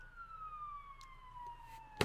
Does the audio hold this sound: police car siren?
yes